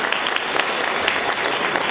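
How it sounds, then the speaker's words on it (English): Conference audience at the American Ethical Union annual conference in Albany, NY applauds, a dense, steady wash of clapping from many hands in a meeting room, with no talking over it. "Let's give a round of applause to our wonderful."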